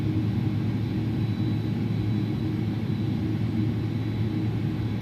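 Airbus A300-600 jet in X-Plane 11 spooling up for takeoff, a steady, loud low-frequency engine roar and rumble holding constant throughout with no voices.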